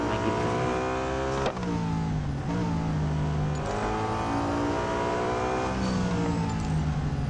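Koenigsegg CC850 hypercar with a manual gearbox, its engine revving hard and loud with rising and falling pitch sweeps and gear changes, a raw, close, continuous roar.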